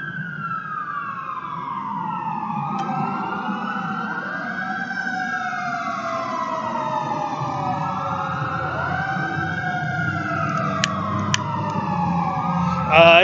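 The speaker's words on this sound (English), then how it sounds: "there's a fire truck going by." Fire truck siren passes behind a shop, its wailing tone sweeping up and down repeatedly over a low rumble of traffic, loud and fairly close throughout, with a brief horn blast at the end.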